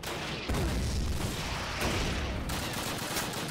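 A Panzerschreck rocket launcher fires during a World War II battle in Call of Duty, one heavy booming blast followed by a loud rumble. Crackling gunfire and explosions fill the background throughout.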